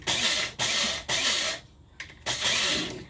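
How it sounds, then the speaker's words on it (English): Bones Coffee Bluesberry coffee beans are ground in an electric grinder in four loud, close pulses of whirring, rattling grinding, separated by brief pauses. "Grind it a little bit more."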